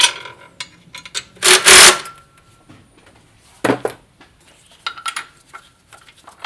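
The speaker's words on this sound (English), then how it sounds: "We can just pop our bolts back in." Bolts going back into the intake manifold of a Ford 4.6L V8, with sharp metallic clinks and a few short rattling bursts of metal on metal, close up and irregular, with no talking.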